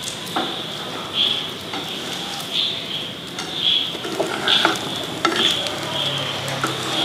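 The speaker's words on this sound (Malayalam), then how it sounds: "ഇനി നന്നായി ഇളക്കേണ്ടി യോജിപ്പിക്കുക." Marble upma mixture being stirred in a small pan, with soft scraping and stirring strokes at an irregular pace beneath a light, steady sizzle, close by; no one speaks.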